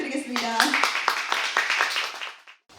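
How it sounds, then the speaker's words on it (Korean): An audience at a digital bookshop book concert applauds as the guest speaker is introduced. A voice speaks briefly at the start, then scattered, fairly close clapping continues before cutting off. "큰 박수 부탁드리겠습니다"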